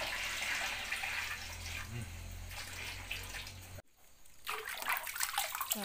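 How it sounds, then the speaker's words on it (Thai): Tap water gushes steadily into a metal basin for a bath, a loud close splashing roar that briefly cuts out, then resumes with a brighter, sloshing fill. "เปิดน้ำใส่กระมัง"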